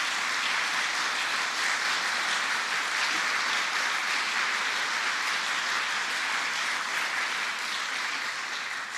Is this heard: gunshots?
no